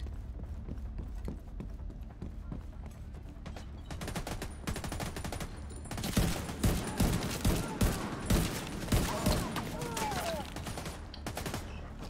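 Shotgun fire in a video game, heard as a dense run of sharp blasts that grows louder and more frequent partway through, layered over busy mechanical game noise.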